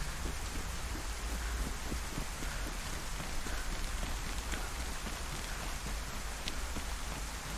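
Steady, fairly quiet rain falling during a video game thunderstorm, an even wash of patter with no voices.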